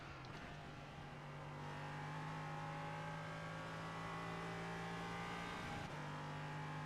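An LMP prototype race car engine in the iRacing sim holds a high, steady pitch at speed, easing slightly through short lifts and picking back up, heard alone without talking.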